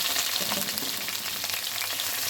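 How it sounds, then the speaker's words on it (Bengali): Onion and bay leaves fry in hot oil, a dense, even crackling sizzle heard up close and without a break. "তেল গরম হলে আমরা ইয়েটা ছেড়ে দিব, পেঁয়াজ আর তেজপাতা ছেড়ে দিচ্ছি।"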